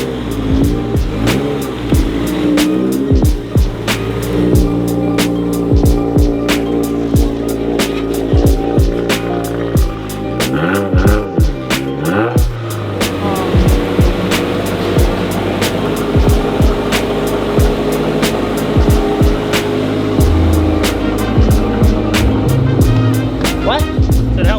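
A 2023 Subaru WRX running on E30 fuel roars loudly and continuously on a dyno, its engine revs rising and falling throughout, with people talking intermittently beneath the noise.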